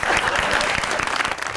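Studio audience applauding on a Pakistani comedy talk show, a dense burst of clapping that carries steadily throughout and stays loud from start to finish.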